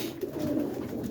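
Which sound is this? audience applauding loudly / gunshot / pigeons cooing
pigeons cooing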